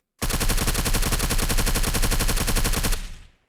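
Sustained automatic gunfire from a weapon in the game Surroundead, a loud, rapid, evenly spaced burst of shots lasting nearly three seconds before cutting off into a brief decaying tail.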